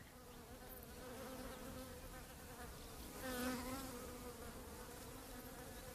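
Bees buzzing steadily around hives set in forest near a village in Tanzania, a dense, continuous drone that swells briefly louder midway, with no voices.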